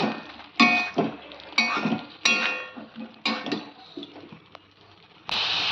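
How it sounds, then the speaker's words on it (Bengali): Ridge gourd and egg stir-fried in a pan with Kashmiri chili and cumin powder, giving repeated bursts of scraping and sizzling as the spatula works, with quieter gaps between strokes and a steadier hiss at the end. "এই দেখো কষাচ্ছি।"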